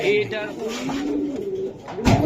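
A club racing pigeon coos in low, rolling throaty notes close by, the calls repeating in a wavering rhythm with a brief rustle near the end.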